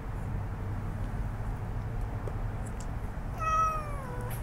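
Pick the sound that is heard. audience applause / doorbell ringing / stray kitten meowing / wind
stray kitten meowing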